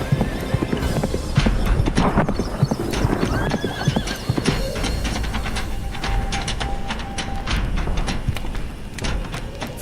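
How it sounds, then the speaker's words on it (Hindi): A horse gallops in a fairy-tale animated story, its hoofbeats clattering steadily and loudly with a whinny near the start over a busy backdrop. "बड़े महाराज तुरंत घोड़े पे सवार उन ऋषि मुनि के पास पहुंच जाते हैं"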